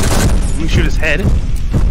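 Gunshots fired at zombies in the VR game Zomday, several loud booming shots mixed with a player's excited talking and game noise.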